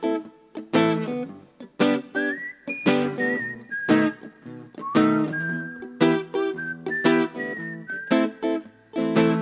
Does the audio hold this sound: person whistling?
yes